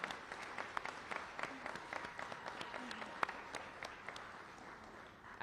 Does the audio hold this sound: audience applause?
yes